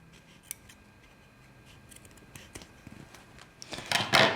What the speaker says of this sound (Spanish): Ahora lo que vamos a hacer va a ser cortar el sobrante de cremallera